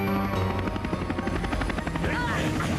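Helicopter rotor whirring in a North Korean cartoon from a series first aired in 1987, a steady loud chopping drone filling the whole moment with busy background sound mixed in.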